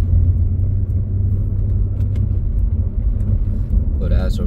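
A 2004 Acura TL with fresh transmission fluid drives along, its steady low engine and road rumble running throughout, with a faint brief chime near the end.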